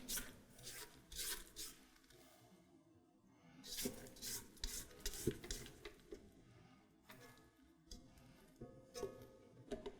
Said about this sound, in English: Quite a bit of scraping.